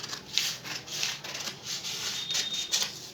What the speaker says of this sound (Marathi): ही कटोरी कापून घ्यायची आहे आपल्याला आता